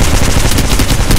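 Rapid automatic gunfire from the mobile battle royale game Apex Legends Mobile, a dense, loud burst of shots crackling without pause through the whole moment.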